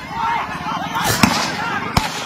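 Blank gunshots fired by a crowd at a public celebration, heard as two sharp cracks about a second apart, standing out over continuous loud crowd noise and voices.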